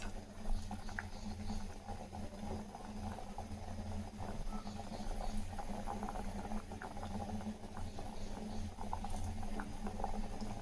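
A pot of thick tomato lentil sambar bubbles and boils steadily, with soft continuous popping and gurgling and no voices.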